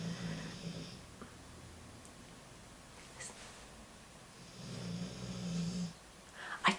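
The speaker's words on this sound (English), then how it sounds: "that is my dog Pebbles under the desk snoring" A dog lies under a desk snoring, with slow, quiet rasping breaths that rise and fade in a few separate cycles at a distance in a calm room.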